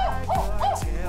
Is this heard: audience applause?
no